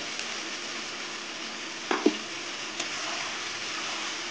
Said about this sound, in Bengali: রসুন দিয়ে কিছুক্ষণ আমি কষিয়ে নেবো, রসুনের কাঁচা গন্ধটা চলে যাওয়া অবধি।